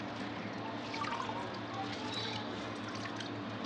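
Water squeezed and dripping out of cloth-wrapped chenna for rasgulla, a steady close trickle and patter of liquid running without pause.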